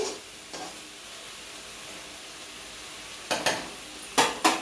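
Spinach and egg fry in a pan with a steady soft sizzle, followed near the end by a few close scraping stirs of a spatula against the metal.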